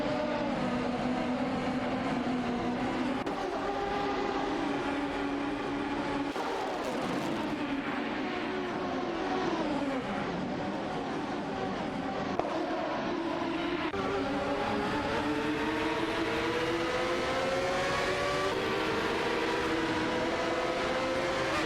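Race cars in a racing video game running closely together on an oval, layered whining engine tones rising and shifting in pitch, steady and moderately quiet, with no talk.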